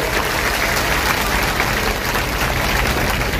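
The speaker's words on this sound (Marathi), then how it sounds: "टाळ्या वाजवून माननीय मुख्यमंत्री महोदयांचं आपण अभिनंदन करा. कमी टाळ्या जोरात वाजल्या पाहिजे" A crowd at a political rally applauds the chief minister with dense, loud, sustained clapping that stays steady throughout.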